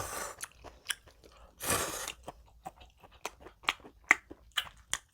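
Seafood jjamppong noodles from Ottogi with shrimp and squid being eaten up close, with soft wet chewing and sharper crunchy bites in an irregular rhythm against a quiet background.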